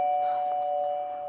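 A doorbell chime rings once with a sustained, clear tone that fades slowly, heard close and alone.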